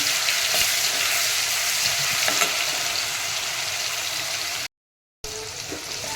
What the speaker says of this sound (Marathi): आता आपण यामध्ये एक चमचा अद्रक लसूणची पेस्ट टाकणार आहोत ही थोडीशी सोपे करून घेऊ